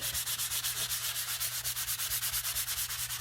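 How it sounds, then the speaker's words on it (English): A sanding block rubs back and forth over glossy paper in quick, even strokes, a close, rhythmic scratchy swish repeating steadily with no talking. "do some light rubbing until you get the kind of glossiness all removed"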